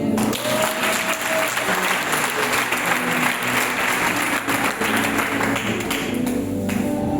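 An audience at a closed spiritual retreat applauds in a sustained, dense burst of clapping that runs throughout, with a few voices mixed in.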